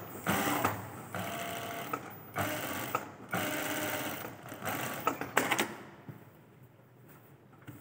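A sewing machine stitches a fabric neckline in several quick bursts of rapid mechanical clatter separated by short pauses, close and clear.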